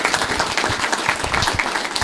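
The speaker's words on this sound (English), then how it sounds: "And that deserves a round of applause." A town council meeting audience gives a round of applause, dense steady clapping from many hands filling the room for two seconds with no voices on top.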